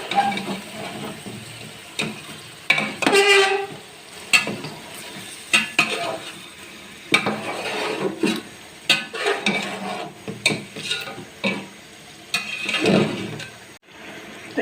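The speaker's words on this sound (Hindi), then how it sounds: "गोश्त जो है और मसाला कितने अच्छे से भुन रहा है।" Beef and masala frying together for haleem. A spoon stirs and scrapes the pot in uneven bursts against a low sizzle, with clinks and knocks between the strokes.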